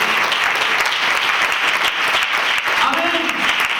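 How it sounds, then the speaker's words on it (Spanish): Dense, sustained applause from a church congregation, loud and even throughout, with a faint voice rising briefly near the end. "Si lo creen, den un fuerte aplauso."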